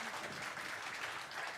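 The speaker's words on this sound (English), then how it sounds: "So give Mercy Ships a good round of applause." An audience applauding Mercy Ships aboard the hospital ship Global Mercy during a medical round table, a faint, steady patter of clapping heard from a distance.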